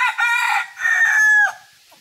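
A rooster crows loudly and close by in a farmyard with hens, one full cock-a-doodle-doo with a long drawn-out final note, heard alone without talk.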